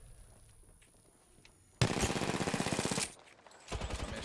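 Rapid automatic weapon fire in the video game Apex Legends, a loud burst of about a second followed by a brief pause and another burst, with no talking.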